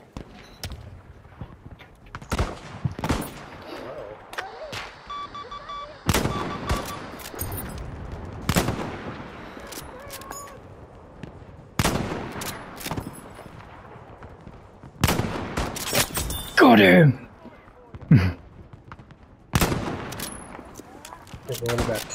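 Sniper and rifle gunfire in Battlefield V: sharp, separate loud cracks spaced a few seconds apart over quieter battlefield ambience, with a brief burst of rapid shots near the end.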